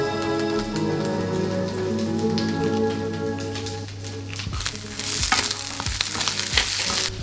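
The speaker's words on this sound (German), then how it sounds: "damit es auch schön kross ist, brate ich das ganz kurz vorher nur an" Vegetarian Like Meat grilled chicken pieces fry in a pan, a loud, steady sizzle with stirring scrapes growing busier toward the end, under a constant low hum.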